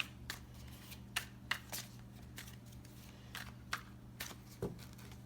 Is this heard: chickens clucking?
no